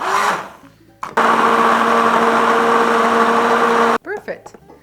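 A blender whirs at full speed for about three seconds, pureeing pearl millet and tilapia fish into baby food, loud and steady with a sharp start and stop, with brief talk before and after.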